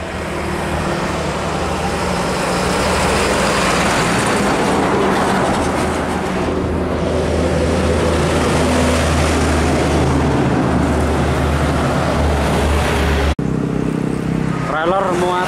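A convoy of heavy trailer trucks, including Hino, Fuso and Isuzu Giga models, drives past on a road with a steady loud engine rumble and road roar, and a brief higher whine near the end.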